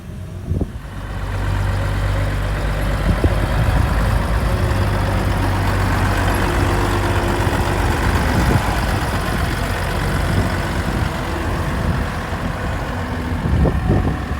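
A Nissan UD dump truck engine runs steadily nearby, a loud continuous low rumble with a faint higher whine, no voices.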